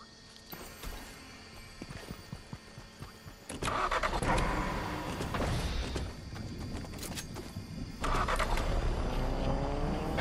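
A car engine in the Fortnite video game, starting up and then running with a steady loud rumble, louder again near the end, with mechanical clicks early on.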